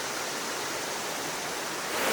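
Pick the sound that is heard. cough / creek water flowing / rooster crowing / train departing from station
creek water flowing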